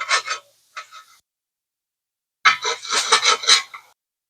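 A hand file rasping burrs off metal on a car's smashed crank pulley after a jack accident: two short strokes, a pause, then a longer run of quick, close, scratchy strokes.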